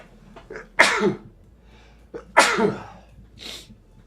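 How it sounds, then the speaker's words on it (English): A person sneezes twice in quick succession, each a sharp loud burst with a short intake before it, followed by a fainter breathy exhale, recorded close in a quiet room. "I'm about to sneeze, y'all, so apologies"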